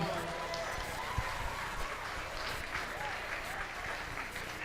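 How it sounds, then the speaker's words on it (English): An audience applauds for singers at an evening showcase. The dense, fairly faint clapping runs continuously throughout at an even level, with a few brief sharper claps standing out. "Let's give all of our singers a round of applause."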